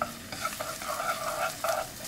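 Minced lemongrass is stir-fried in liquid pork fat in a pot, giving a close, steady sizzle with scraping strokes of a spoon or spatula against the pot.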